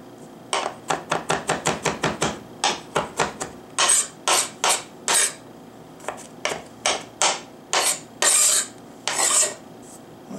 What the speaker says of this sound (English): I do want to chop the garlic fairly finely.